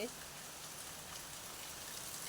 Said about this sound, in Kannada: ಬಂತು ಈಗ ಮಳೆ ನೋಡಿ